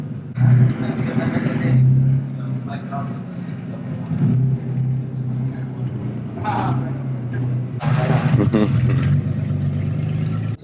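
A turbocharged BMW E36 pulls away with its engine droning and rising in pitch, loud and close, while people talk over it throughout.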